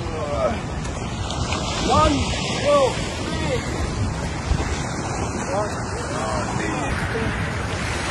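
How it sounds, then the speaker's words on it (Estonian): Men hauling a boat out of the sea by a shore, with waves, heavy wind buffeting the microphone and loud voices calling and counting together throughout. "Ei saa paati veest välja, nii et aitab meid korra"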